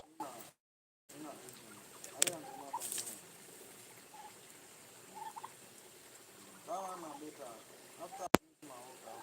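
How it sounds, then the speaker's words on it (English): Turkeys gobble and cluck on a farm in brief bursts against a steady low background, with a person talking nearby between calls. "You want to see my turkeys?"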